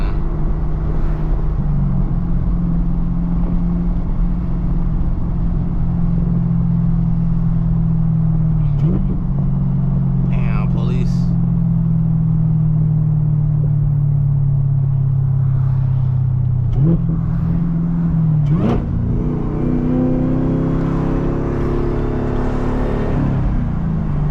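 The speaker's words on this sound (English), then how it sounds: "Hopefully y'all can hear like the engine and stuff" A steady, deep supercharged engine drone heard from inside a moving Camaro ZL1 with manual transmission, its pitch sliding and jumping with gear changes as it accelerates, with talk over it.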